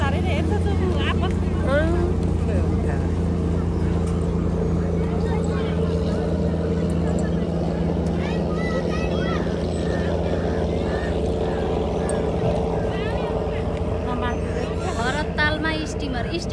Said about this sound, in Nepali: भरततालमा स्टिमर त होला नि है। यो हो स्टिमर।